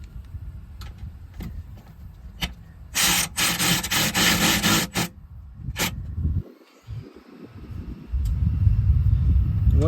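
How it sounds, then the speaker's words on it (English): A ratchet tightens self-tapping screws into a trailer's metal stabilizers, giving irregular clicks and bursts of rapid ratcheting with scraping and knocking between them and no speech. "I have to finish them and tighten them with the good old-fashioned ratchet"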